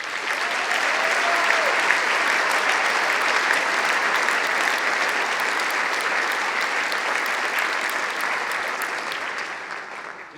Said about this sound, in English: Let's give these folks a round of applause.